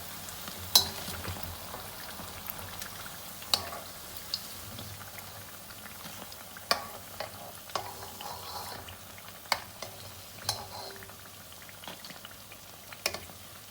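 Dahi bhalla dumplings fry in ghee until golden brown, giving a steady soft sizzle and bubbling broken by scattered sharp clicks and taps from a utensil, with no voices.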